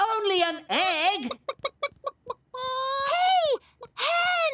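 A cartoon hen from Alphablocks clucks and squawks in bursts, with short sharp clucks in between, loud and close, as though calling out in alarm.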